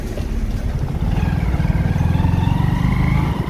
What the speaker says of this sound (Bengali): আর বাইক জোরে চালানো যাচ্ছে না, আস্তে আস্তে চালাতে হচ্ছে।